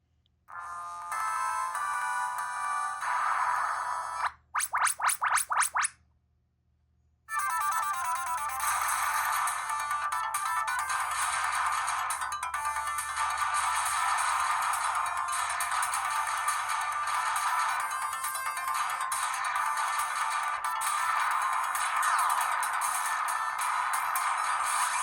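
Retro Contra game audio plays from a cheap tablet's speaker, bright beeping chiptune-style music and effects, briefly cutting out early on and then running on continuously at moderate level.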